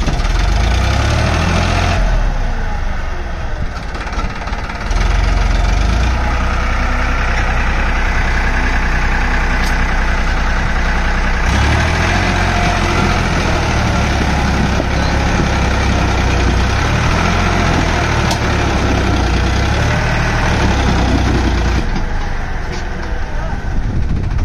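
A Farmtrac tractor engine labours under heavy strain, a loud, close, continuous rumbling drone with knocking undertones that rises and dips slightly, with a voice faintly underneath.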